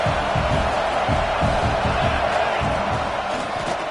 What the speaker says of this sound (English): The crowd getting behind this defense